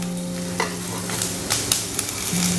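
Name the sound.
onion frying in olive oil in a pan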